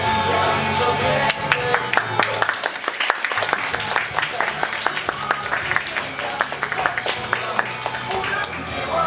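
A crowd breaks into warm applause, many hands clapping densely and steadily at close range throughout.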